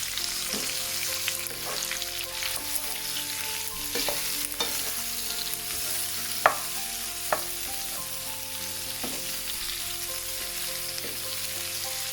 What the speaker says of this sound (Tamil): இந்த போக்கில் இருந்து வர ஒயிலே எல்லாத்தையும் வதக்கி எடுத்துக்கணும்